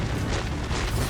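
A Confringo spell explodes in the Hogwarts Legacy video game. It is a dense, loud, sustained rumbling boom lasting about a second, with no voices.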